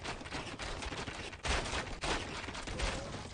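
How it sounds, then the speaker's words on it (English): Massed arrow fire from Assyrian archers on a hill pounds a barracks in a real-time strategy game, a dense continuous rattle of volleys with heavier impact bursts, loud and unbroken. "look at how fast this barracks melts under the fire of Assyrians on a hill"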